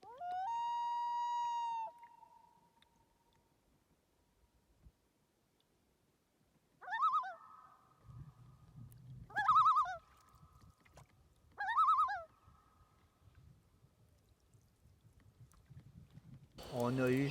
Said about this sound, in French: Le huard est assez omniprésent.